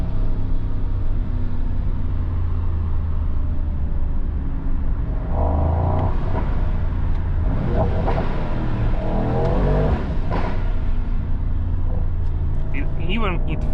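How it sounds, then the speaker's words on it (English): A 2026 Mercedes-AMG GT 63 Pro engine revs hard with deep exhaust rumble, rising and falling, with sharp crackles and pops as the throttle lifts. "It fires from the exhaust."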